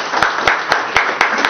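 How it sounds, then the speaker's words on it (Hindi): Applause at a seminar in a hall, with a few sharp, evenly spaced claps standing out above a wash of clapping, fairly loud and without talk. "पहले जोरदार तालियां"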